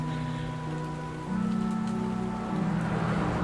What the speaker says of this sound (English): we're standing in the rain